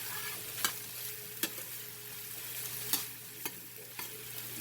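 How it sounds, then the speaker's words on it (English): Cooked chicken being reheated in a frying pan, a soft low sizzle with a faint steady hum, punctuated by about five sharp spatula scrapes as it is stirred, quiet and without talk. "So now this is really the heating process for the chicken."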